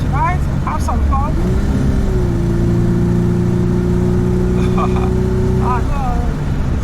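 A Peugeot 505 V6 car engine holds a steady, droning rev for several seconds under loud talking and background noise, rising briefly before settling and then cutting off, at night.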